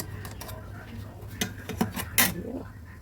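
A metal box is set onto a stand inside a wok of water, giving a few close clinks and scrapes of metal on metal, ending in a brighter clatter, over a low background hum.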